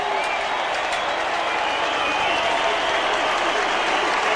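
A large crowd applauds steadily and loudly as the Ipswich Jets run out onto the field for the 1989 Brisbane rugby league grand final against Valleys, the clapping dense and continuous throughout.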